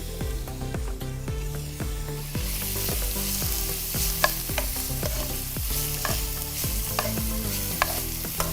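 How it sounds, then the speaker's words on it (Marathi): Chicken mince being sautéed in a pan until lightly browned, with a steady close sizzle and frequent rhythmic scrapes and clicks of a spatula stirring throughout. "थोडासा ब्राऊन होईपर्यंत आपण परतून घेऊ"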